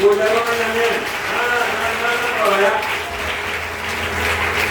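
A church congregation claps and cheers in praise for a minister marking 29 years of ministry, a broad sustained applause with voices mixed in throughout.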